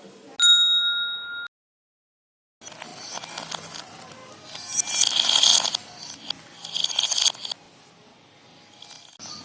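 A bright subscribe-bell sound effect rings out as a single clear ding that sustains for about a second, followed by a short silence and then busy, clattering kitchen noise.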